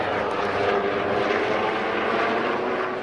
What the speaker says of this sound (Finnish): Mediheli!